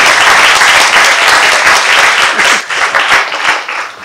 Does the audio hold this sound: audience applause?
yes